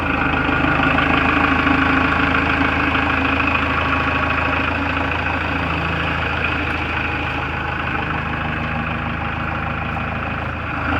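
A Kubota tractor engine idles steadily at low throttle, a continuous close rumble with no talking.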